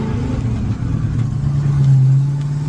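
A Ford F100 pickup with a 460 big block engine cruising down the road in third gear, a loud steady low engine drone with a slight swell in revs, heard close from inside the cab.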